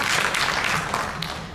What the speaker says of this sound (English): A warm round of applause for our distinguished speakers